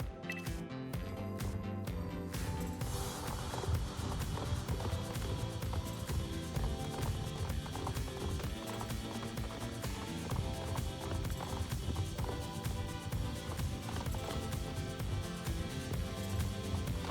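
Horse galloping in the Star Stable video game, rapid rhythmic hoofbeats running continuously under a layer of game music, with a few sharper taps at the start.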